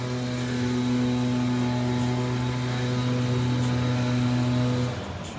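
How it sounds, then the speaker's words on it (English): A hair blower runs steadily during a haircut, a loud, constant motor whir with a steady hum that holds for about five seconds and then cuts off near the end. "here comes the blower."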